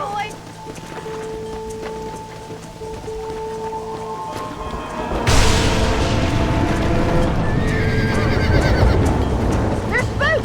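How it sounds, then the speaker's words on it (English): Spooked horses in the Red Dead Redemption video game, starting with a sharp whinny, then a sudden surge of pounding hooves and rumble as the herd stampedes, with more neighs over it and game voices talking. "They're spooked. We have to stop the stampeding."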